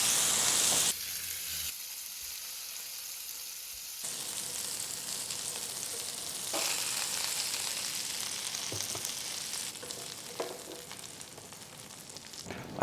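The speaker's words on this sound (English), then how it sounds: "You can, of course, cook your polpettine in an ordinary skillet over medium heat." Polpettine fry in an ordinary skillet over medium heat with a steady, close sizzle and crackle that runs without pause. A few brief shifts in tone come from stirring and handling.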